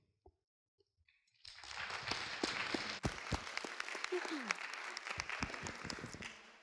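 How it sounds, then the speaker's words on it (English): Loud round of applause from a college audience after a panel discussion, a few scattered claps building into sustained, dense clapping that fills the hall and continues steadily to the end. "another loud round of applause for our amazing panelists"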